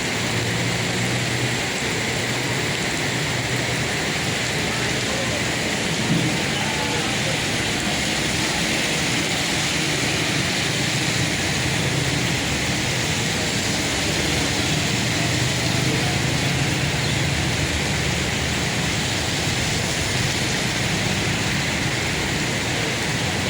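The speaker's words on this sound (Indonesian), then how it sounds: "Semoga tidak terjadi apa-apa dengan adanya hujan yang sangat lebat ini." Heavy rain pours down steadily on the streets of Banda Aceh, a dense, continuous hiss that stays loud and even throughout with no pauses.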